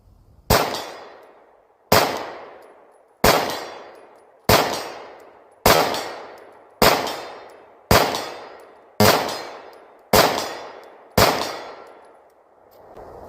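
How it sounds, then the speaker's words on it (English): A Bul Armory Tac Pro 4.25 pistol fires at a steel target 50 yards away outdoors: about ten sharp, loud shots at an even pace, each followed by a ringing tail that fades before the next. "Just going to put a few rounds on a piece of seized-on steel."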